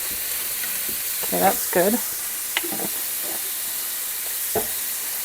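Garlic cloves frying in a pan give a steady, even sizzle under a few brief spoken words, with light utensil clicks scattered through the hiss.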